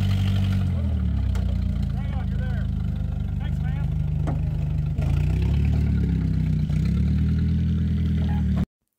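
A John Deere 6135E tractor engine idles with a steady low rumble close by while someone talks over it throughout.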